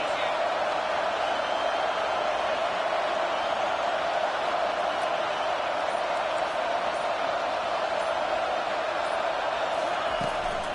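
Large football stadium crowd roaring in support of the defense during a Wisconsin vs Michigan game, a constant dense wall of distant cheering and noise with no distinct peaks, steady throughout.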